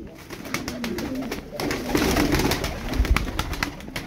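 Light-coloured tumbler pigeons coo softly and repeatedly at close range, their low throaty calls mixing with rustling and small clatters in the loft.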